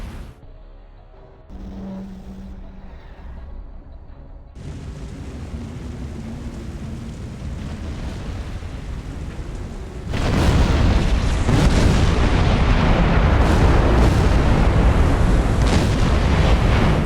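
A torpedo strikes a warship in the Silent Hunter 4 submarine game, setting off a sudden heavy explosion that swells into a loud, sustained roaring blast and rumbling debris, following a quieter stretch of low ambient noise.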